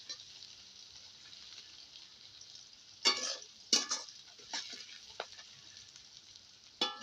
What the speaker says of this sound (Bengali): পেঁয়াজ একটু ভাজা ভাজা হয়ে এসছে দিয়ে দেবো একটু রসুন বাটা